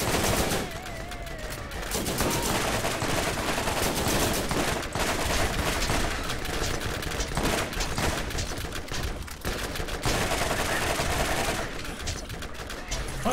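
Turrets in Borderlands fire continuously in dense, rapid bursts, loud and close, with brief pauses and scattered impact noise throughout.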